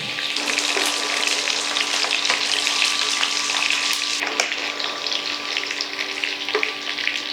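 Sweet potato, cabbage and pumpkin fry in a pan for a Bengali vegetable stew, giving a loud, continuous close-up sizzle with no voices.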